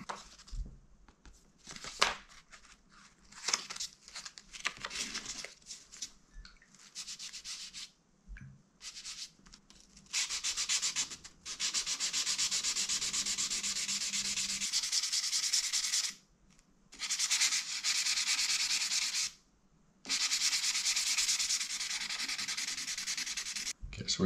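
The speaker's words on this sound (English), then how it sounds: "We're moving up to 1000 grit now." A mountain bike part is hand-sanded with 1000-grit sandpaper during polishing, heard as close, scratchy rubbing strokes in choppy bursts at first, then long sustained stretches broken by short silent pauses.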